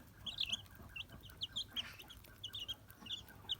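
Chicks peep in short, high, bright bursts, chirping repeatedly and fairly close over a low background hum.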